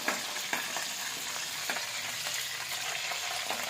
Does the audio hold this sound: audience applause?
no